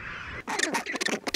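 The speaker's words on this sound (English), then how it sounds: "loud squawking echoed beyond the tussock grass" Rockhopper penguins squawk loudly from a colony beyond tussock grass on a sub-Antarctic shore, with dense overlapping harsh calls after a brief quieter moment.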